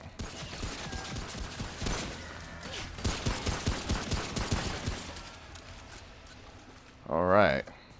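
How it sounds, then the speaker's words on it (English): Enemy gunfire in the co-op shooter Remnant: From the Ashes, with repeated bursts of shots across the clip under and around player talk, ending in a louder burst near the end. "Who is shooting at us from over there?"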